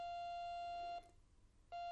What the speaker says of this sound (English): So it's beeping at intervals. It's a square wave kind of a deal.